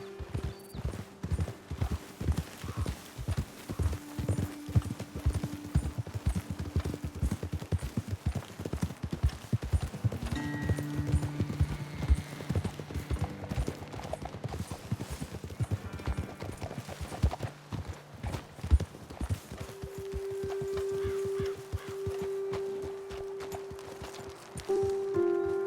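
Horses ridden in the video game Red Dead Redemption 2, steady rhythmic hoof clip-clops over open ground with an occasional snort, joined by game music tones, fairly close and continuous.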